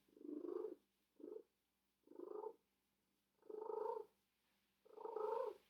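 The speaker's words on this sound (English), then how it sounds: "Doesn't she have the craziest purr ever?" A cat purrs in five separate, rhythmic bursts with short pauses between them, a close, throaty, cooing rumble.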